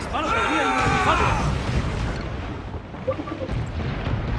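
Ship cannons fire in the naval combat of the video game Assassin's Creed 4 Black Flag, a deep broadband boom opening the clip and rumbling away beneath shouting crew voices and battle noise.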